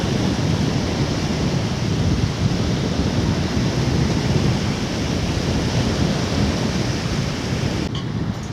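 Strong wind roars steadily across a blowy coastal path near the sea, a dense, even rush that stays loud and unbroken throughout with no voices.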